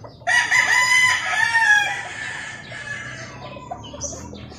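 A bullstag gamecock rooster gives a single loud, close crow that starts strong and trails off over a few seconds, with no talking over it.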